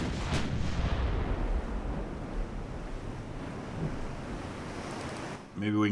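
Naval guns fire high-explosive shells in a warship video game, with a sharp blast near the start over a constant roaring, wind-like rumble of sea and battle, and a hard final report at the very end.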